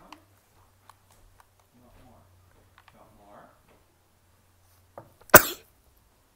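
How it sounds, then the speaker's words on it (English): A single loud, sharp sneeze bursts out near the end of a quiet stretch, preceded by faint murmuring talk and small clicks while playing Slime Rancher. "I cannot stop sneezing."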